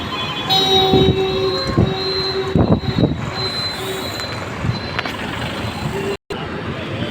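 Busy platform ambience at Kacheguda railway station with rumbling train noise, metallic tones and scattered voices, steady and fairly loud throughout.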